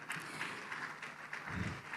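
Applause from an audience at a philanthropy event, a steady wash of many hands clapping, fairly distant and soft, sustained for the whole two seconds.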